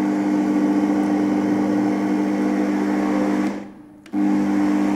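A low, steady motor hum from an Oster Versa Performance blender on low speed runs close and even, then cuts out briefly before starting up again.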